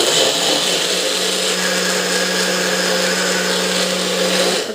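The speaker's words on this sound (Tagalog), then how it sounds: "Ibi-blend ko muna para madurog." An electric blender whirs steadily, grinding corn for a glutinous rice snack, a loud continuous motor drone with a constant hum, running alone without talk.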